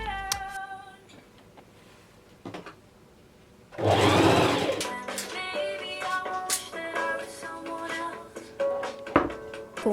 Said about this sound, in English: pin the sleeves to the bodice and sew the sleeves to the bodice